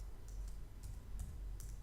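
Soft keystrokes on a computer keyboard while setting up a new Mac: a handful of light, irregular taps sit faintly over a steady low hum, with no talking.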